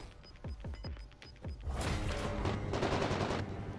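Gunfire in the video game Call of Duty: Modern Warfare: a quick series of sharp, punchy shots, then a dense, continuous burst of rapid fire and clatter, loud and close, with no talking.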